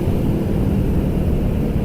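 A truck passing on a road at night near Cadas Pangeran, heard as a loud, steady low engine rumble and road roar that holds without a break, mixed with broad wind noise.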